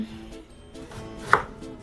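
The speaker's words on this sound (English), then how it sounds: "you're gonna start by chopping up the eggplant" A knife chops through eggplant on a cutting board in a kitchen, several soft close thuds with one sharper knock near the end, fairly quiet and unhurried.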